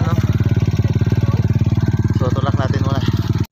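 A motorcycle engine labours steadily, stuck in deep mud on a rain-soaked mountain trail, its loud chugging rhythm continuous throughout while people talk over it.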